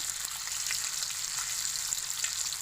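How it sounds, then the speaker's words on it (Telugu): Pieces of fish fry in oil filling about half their depth, a close, steady bubbling sizzle with small crackles and pops throughout. "నూనె మనకు చాలా చక్కగా చాలా బాగా ఫ్రై అవుతుంది"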